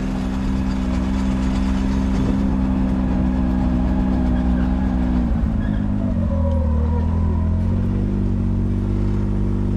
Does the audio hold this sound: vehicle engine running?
yes